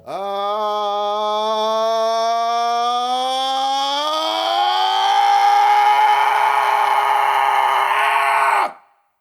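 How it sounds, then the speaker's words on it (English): A single sustained human scream, starting thin and swelling steadily louder and harsher over several seconds before cutting off abruptly; close and alone. "beginning with a weak scream and in the same breath progressing louder and louder until it's full-on screaming"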